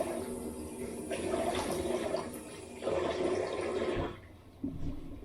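Water runs steadily from a tap during a face rinse, a continuous splashing flow with brief interruptions and surges, fairly quiet and close, with no talking.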